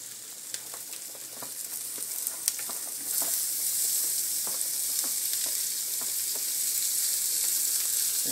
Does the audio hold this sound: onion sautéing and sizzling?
yes